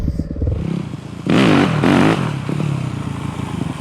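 A Yamaha WR250F dirt bike with a rebuilt, rejetted carburetor idles close by, then surges through two sharp throttle blips before settling back to a steady idle.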